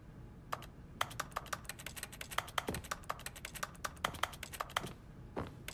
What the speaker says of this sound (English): everything just makes a keyboard click sound